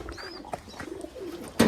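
Pigeons in a newly opened loft give a few soft, low coos close by, punctuated by brief rustles and a sharper clatter near the end, with no talking.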